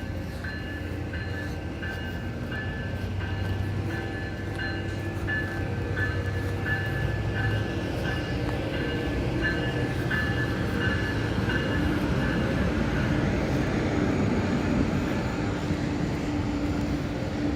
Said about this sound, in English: We get to see the choo-choo.